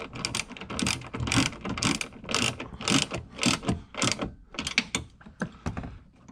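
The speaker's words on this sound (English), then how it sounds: "Ratchet that down." A hand ratchet tightens the seat belt adjuster bolt on a Honda Fit, giving a close, steady run of rapid clicking strokes in regular bursts over about six seconds, with no talking.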